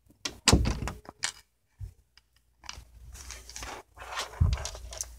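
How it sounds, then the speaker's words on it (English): An indoor door being closed, a cluster of close knocks, scrapes and thuds followed by further shuffling handling noises and a final solid thump. "Now I'm going to close the door."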